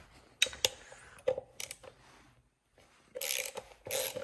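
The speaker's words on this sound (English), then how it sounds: "I'm gonna remove these 3 bolts right here, get off the airbox" Ratchet wrench removing airbox bolts on a 1981 Honda CB125S during a frame-up restoration, close clicking bursts with short pauses, then two louder, longer stretches of rapid ratcheting at the end.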